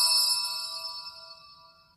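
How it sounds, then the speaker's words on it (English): A phone notification gives a single bright, ringing chime that fades away over about two seconds, with no talking. "Sorry, that was my phone."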